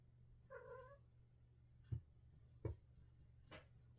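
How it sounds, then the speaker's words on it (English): A house cat gives one short, close meow, followed by a few soft knocks and taps in an otherwise quiet room. "My cat's coming to say hi."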